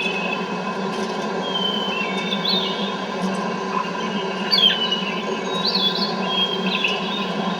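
Bird chirps and tweets play from a tape loop on a 7-inch reel, looping continuously over a steady hum and hiss of tape noise.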